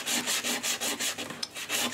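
Hand sanding of a metal jewelry piece with sandpaper, a close, rhythmic back-and-forth rasping of about eight even strokes at a steady pace, with no talking.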